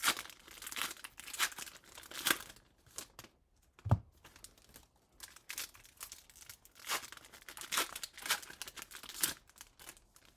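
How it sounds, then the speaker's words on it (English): Foil packs of 2025 Topps Stadium Club hobby trading cards are torn open one after another, sharp crinkling and ripping bursts separated by short quiet gaps, close up and with no talking. "watching someone open packs of cards"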